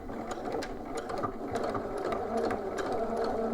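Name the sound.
sewing machine back stitching and edge stitching shorts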